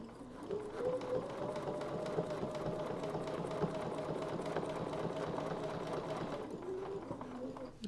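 A home sewing machine stitches back along a feather quilting template to its starting point, a steady continuous motor hum with rapid needle chatter running for most of the stretch before easing off near the end.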